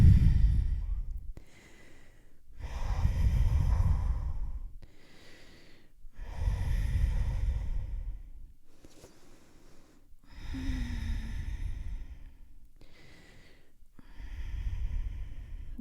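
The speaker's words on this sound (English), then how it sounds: "Deep breathing." Deep, slow breaths during a yoga practice, each long inhale-exhale swelling and fading about every three to four seconds, close and fairly loud with no talking.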